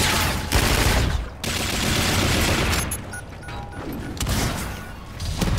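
Rapid, loud bursts of gunfire from akimbo shotguns in Call of Duty: Infinite Warfare multiplayer, with dense repeated blasts and crashing impacts filling most of the stretch and short gaps between volleys.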